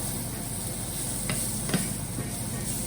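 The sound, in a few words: curry base frying in a pan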